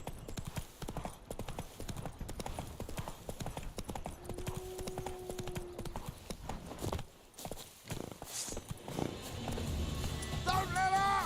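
Rapid hoofbeats of the horse Roach galloping in The Witcher 3, a continuous clip-clop rhythm with a brief neigh and game ambience, moderately loud, while someone talks over it.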